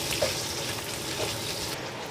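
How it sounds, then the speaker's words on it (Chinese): Chinese cured pork (larou) stir-frying in a wok with a little oil, giving a dense, continuous close-up sizzle with a faint scrape of tossing. "下入腊肉煸炒"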